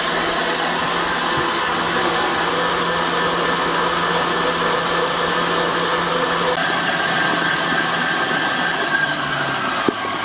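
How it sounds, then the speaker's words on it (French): A stand mixer whisks meringue with icing sugar for a coconut and citrus pavlova, running at high speed as a steady, loud, continuous motor whir with beater hum that lasts throughout and has no talk over it. "Je baisse un petit peu la vitesse de mon robot et là j'ajoute mon sucre glace et je peux réaugmenter la vitesse du batteur."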